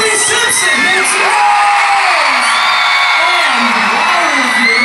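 Big concert audience cheering for the band, a sustained wall of shrieks, whoops and yells with voices rising and falling through the roar.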